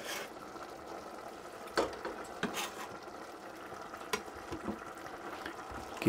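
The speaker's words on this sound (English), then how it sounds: "Give that a good stir." Bacon lardons of thinly sliced pork belly being stirred in a pan for homemade baked beans, a steady soft frying sizzle with a few scraping knocks of the spoon against the pan, no talk.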